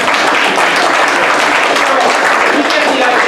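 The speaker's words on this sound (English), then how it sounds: "Give him a round of applause." An improv comedy show audience bursts into loud, dense, steady applause, close and full for the whole stretch without a break.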